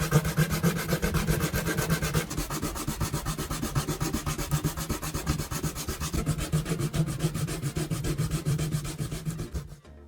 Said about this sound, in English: Use sandpaper to smooth the edges you just cut.